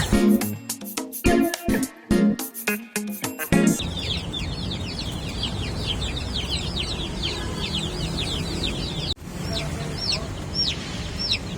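Pet chicks kept in a coop cheep in a busy, continuous chorus of high peeps, preceded by a few seconds of louder handling knocks and rustles; the chirping runs steadily close by with no talk.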